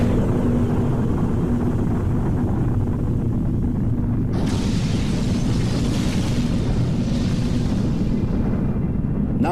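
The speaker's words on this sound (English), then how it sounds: "the most destructive bomb, the hydrogen bomb." Hydrogen bomb explosion: a continuous deep, rumbling roar that swells into a harsher, brighter blast about halfway through and stays loud to the end, with no voices.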